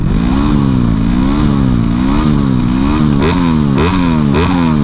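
A motorcycle engine idling close by and revving repeatedly, its pitch rising and falling in several loud surges.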